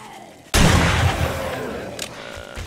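A shotgun in the survival game 7 Days To Die fires with a sudden loud blast that rings out and decays, followed by a fainter second report near the end.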